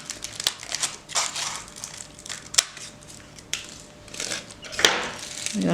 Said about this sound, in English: Let me cut here. I have the scissor.